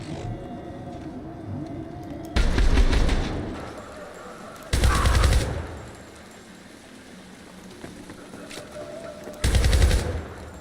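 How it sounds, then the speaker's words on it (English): Bursts of automatic gunfire rattle out on city streets in the video game Syndicate, three loud sustained volleys of rapid shots spaced a few seconds apart over a steady background hum. "Just shooting out on the streets."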